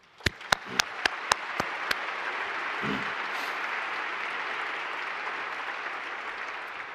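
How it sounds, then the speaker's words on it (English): A graduation crowd applauds after a few sharp, separate claps ring out near the start, then the sound settles into a broad, sustained wash of clapping from a large audience at moderate, even volume. "Give yourself a round of applause."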